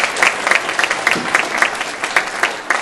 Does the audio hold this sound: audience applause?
yes